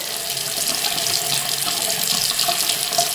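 Steady rush of tap water running into a sink while a makeup brush is rinsed, continuous and close, with slight splashing variations.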